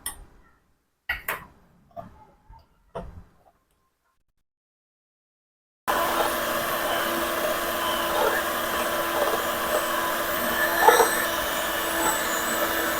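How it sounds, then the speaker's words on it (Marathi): Electric blender beating mawa cake batter, a steady whirring drone that starts after a few soft knocks and short silence and runs continuously to the end. "मी आता ब्लेंडरच्या साह्याने हे छान फेटून घेणार आहे"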